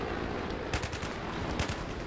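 Gunfire from the video game Battlefield 3, bursts of shots around the middle and near the end over a steady noisy game bed, fairly faint, no talk.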